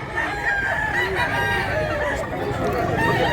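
A gray gamecock rooster, about two years old, crows at a game farm in Mantalungon, Cebu, a close, drawn-out crow with strong harmonics over faint background noise.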